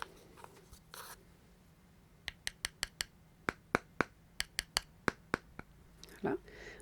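A makeup powder container is twisted open up close, giving a rapid series of about a dozen sharp, crisp clicks in a quiet room, with faint soft handling sounds before and after.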